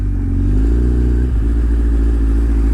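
A 2010 Kawasaki Z1000 motorcycle is ridden and then braked, its engine a loud, close, steady drone with a brief dip in pitch midway. There is no talk.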